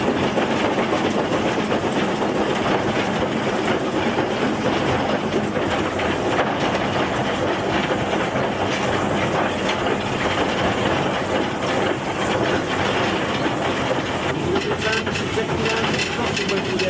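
Steam locomotive working along the Elsecar Railway, a steady loud run of chuffing, hissing steam and clickety-clack from the wheels on rail joints, continuous and close throughout.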